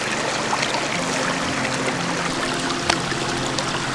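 Clear, cold mountain stream flowing and trickling close by, a continuous bright wash of running water with small splashes and gurgles throughout.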